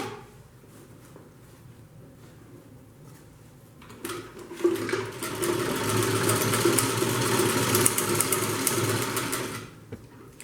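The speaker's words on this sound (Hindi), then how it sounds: "इसे भी मैं एक बार आपको सिल के दिखाती हूँ। इसी तरीके से सिलेंगे दोनों साइडों को।" A sewing machine stitches the side seams of a fabric handbag, starting quietly and then running steadily and fairly loud for about six seconds before stopping, with no talking.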